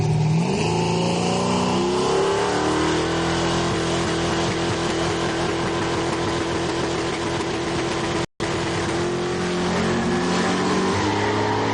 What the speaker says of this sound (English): Turbocharged. LS2 engine. And it is a very, very sleepy looking car.